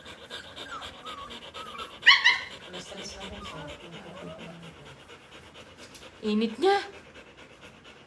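Hershey the dog pants rapidly and heavily from heat stroke, close and steady throughout, with a couple of brief whimpering yips as people talk nearby.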